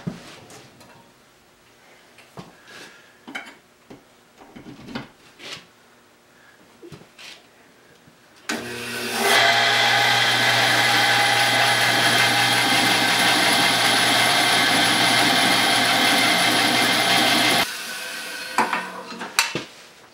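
A 110-year-old bandsaw driven by its motor starts up after some quiet handling clatter, then runs as a loud, steady whine and hum for about nine seconds before shutting off abruptly, followed by light knocks.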